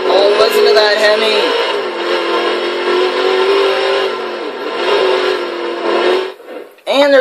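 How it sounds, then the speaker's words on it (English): The Hemi engine of a 1972 Chrysler VH Valiant Charger R/T E49 in Forza Horizon 3 roars loudly and steadily while drifting, its pitch rising and dipping with the throttle before a brief cut and a renewed burst. "Oh, listen to that Hemi."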